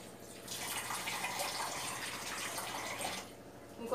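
Water poured into a pot of drumstick and tomato curry with tamarind juice, a steady splashing pour running for about three seconds before tapering off, fairly close.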